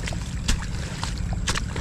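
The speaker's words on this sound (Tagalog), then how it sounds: "Nakaminor lang yung makina ng mga katong" A small boat engine idles at low throttle in a steady low drone, with splashes of water and a few brief knocks.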